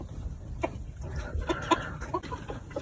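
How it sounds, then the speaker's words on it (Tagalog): A Rhode Island chicken clucks softly in short, irregular bursts close by, with quiet background noise and no talking. "At saka Rhode Island na manok"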